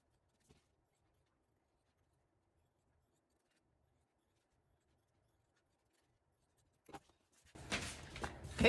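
Long near-silence with a faint tick gives way to a short burst of close scissor snips and scratchy rustling as lavender quilting fabric is traced and cut.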